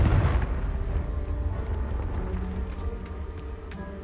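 Confringo spell explosion in the Hogwarts Legacy video game, a loud booming blast that opens sharply and then settles into a sustained low rumble with game ambience behind it.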